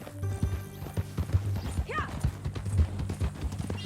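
Horse hooves clip-clop at a walking pace in the Red Dead Redemption 2 video game, close and rhythmic, with a brief whinny partway through and a short spoken word over the steps.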